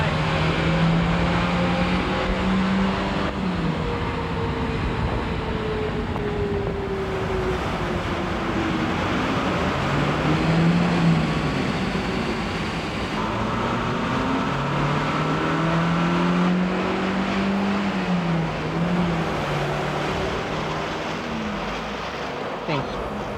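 A car runs on a factory roll-testing rig, its engine droning continuously and loudly and rising and falling in pitch in repeated sweeps as it is taken through speeds, with steady mechanical and road-roller noise underneath.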